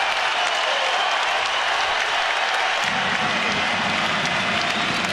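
A college basketball crowd in a Virginia arena applauds and cheers, a dense, steady roar of clapping heard from inside the stands.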